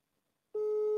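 A telephone busy tone starts abruptly after a short silence and holds as a steady, moderately loud, continuous electronic tone to the end.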